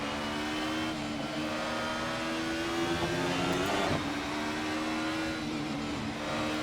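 A DTM touring car from the Alfa 155, BMW M3 and Mercedes 190 era in a racing video game, its engine note climbing steadily through the revs, briefly dipping at a gear change before rising again, loud and continuous.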